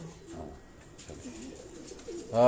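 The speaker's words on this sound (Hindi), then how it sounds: "ये दूसरे सेशन में हमने आपको ये कबूतर दिखाए" Pigeons on a rooftop coo softly in short, low murmuring calls, faint and close, with a louder sound rising at the very end.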